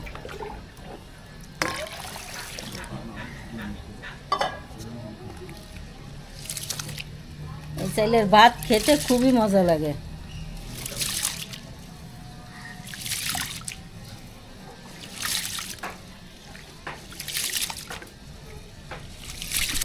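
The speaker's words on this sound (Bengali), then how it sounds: "আমি চাল ধুয়ে দিচ্ছি" Water swishes and trickles as rice is washed by hand, with a person talking over the splashing.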